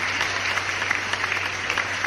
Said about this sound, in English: Big applause for Pugman.